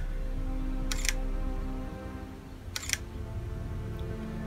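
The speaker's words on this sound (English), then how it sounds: "I've tried every trick in the book to get it to fire the shutter." A mirrorless camera shutter fires in two separate brief double clicks, about two seconds apart, close and crisp over a steady low background hum.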